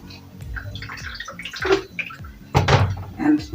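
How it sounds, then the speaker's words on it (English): Water is poured in small splashes into grated coconut through a coconut sieve while cooking coconut beans, with irregular wet trickles and sloshes at close range, louder bursts near the end. "You add water little by little"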